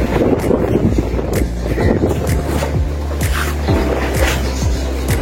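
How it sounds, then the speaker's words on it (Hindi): Steady, loud storm wind with rain and snow roars and buffets throughout, with rumbling low-end gusts and scattered rattles and knocks from things being blown about. "हवा इतनी तेज़ है आज हर तरफ के बस, और हर चीज़ उड़ रही है"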